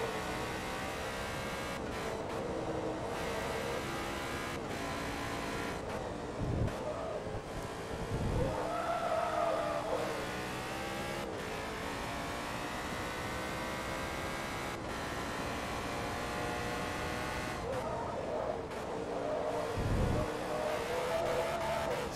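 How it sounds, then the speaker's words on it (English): Race car engine in the Forza Motorsport 2 racing game, droning steadily at high revs with repeated shifts and brief dips, plus occasional short skid bursts, heard alone without talk. "This car sounds neat."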